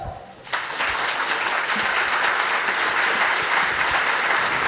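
An audience at a Ukrainian state presentation event breaks into loud, sustained applause that starts abruptly after a brief quieter moment and continues as steady dense clapping.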